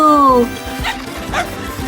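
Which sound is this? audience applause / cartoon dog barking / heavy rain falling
cartoon dog barking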